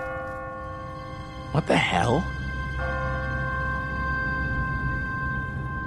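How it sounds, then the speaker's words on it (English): In the video game The Walking Dead, an automatic church bell on a timer rings with a sustained, ringing tone that decays slowly, while a brief, startled voice cuts in over it. "No one's ringing that bell. It's automatic. On a timer. What kind of church bell goes off at 20 past the hour?"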